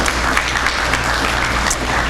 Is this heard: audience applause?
yes